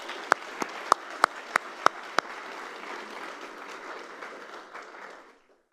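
Audience applause at a food-industry brunch event, opening with a handful of sharp, loud individual claps before settling into steady, moderate clapping that fades out near the end.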